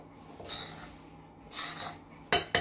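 A spoon scrapes and rubs inside a bowl as roasted sesame, copra, sugar, roasted gram and cardamom powders are mixed by hand for karchikai filling. Two soft gritty swishes are followed by two sharp metallic clinks.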